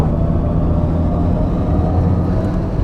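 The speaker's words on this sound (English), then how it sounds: "So I'm going to turn this dial, put it in Sports Plus mode, so we get the silly noise." A Mercedes-AMG EQS electric car in Sports Plus mode accelerates, its synthetic drive sound a loud, steady low rumble and hum that holds throughout with no talking.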